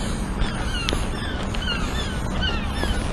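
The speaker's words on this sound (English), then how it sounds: "a crow's going ha ha ha ha repeatedly in this pattern, ha ha ha ha" A crow caws repeatedly in a rapid pattern outdoors on a cloudy winter day, the calls moderately distant over a steady background of wind and ambient noise.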